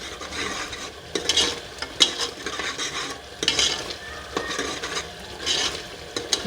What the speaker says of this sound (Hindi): ये देखिए हमारे प्याज और लहसुन और जो खड़ा गरम मसाला था साबित वो इसमें अच्छे तरीके से मैं फ्राई कर रही हूँ।